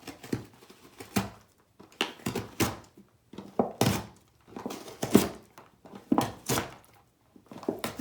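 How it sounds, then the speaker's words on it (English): A dog tears and shreds a cardboard box at close range, producing irregular thumps, rips and scuffling bursts separated by brief quiet gaps. "I do occasionally like to give him a cardboard box to shred, because I know how much he enjoys shredding things"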